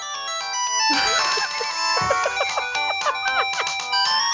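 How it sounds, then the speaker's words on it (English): A bright electronic ringtone melody plays loudly, repeating short rapid tones with brief gaps, nearby and with no talking over it. "And all of them, Mike, their cell phone has this ringtone."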